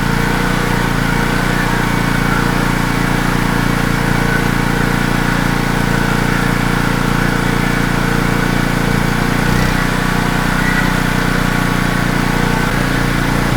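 Small generator engine running at half choke, a loud continuous droning hum close by, with a slight dip and change in its note around the middle, no talking.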